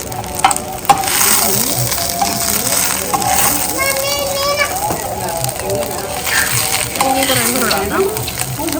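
Shredded cabbage sizzles and crackles in a hot pan while a spoon scrapes and stirs it with clinks and rattles. Steady frying noise runs throughout, with someone talking over it.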